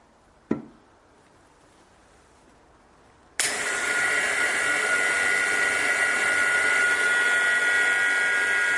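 A single sharp click sounds, then a few seconds of quiet before a vacuum pump starts abruptly, pulling air from a vacuum chamber with a loud, steady, high whine and motor drone that carries on without voices.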